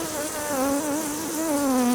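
Honeybees buzz at an open Apimaye hive during a honey harvest, a dense, close, steady hum with wavering pitch and no voices.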